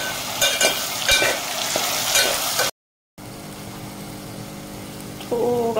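Cumin and spices sizzle in hot oil while being stir-fried for shashlik and fried rice, a steady crackling hiss with scraping stirring strokes, cut by a brief silence before the frying resumes.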